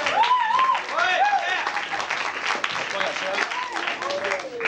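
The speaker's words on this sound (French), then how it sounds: "On peut les applaudir, c'est permis." Audience applause for two judges at an improv match, clapping running underneath excited voices and whoops, near and lively.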